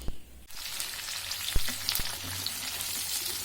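Cut white onions frying in a little oil in a pan, a dense close sizzle that jumps up after a brief quiet start, with a couple of sharp utensil knocks and crackling spatters and no talk.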